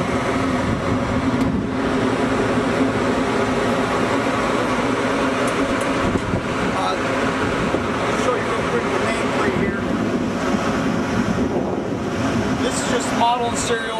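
An exhaust fan unit on a 460-volt motor, running with a steady broadband rumble and whoosh that stays constant throughout, while someone talks nearby.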